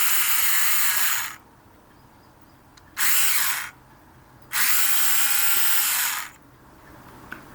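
A handheld power drill bores a hole in a model ship part, whirring loudly in three high-pitched bursts of about a second or more each, separated by quiet pauses, with no talking.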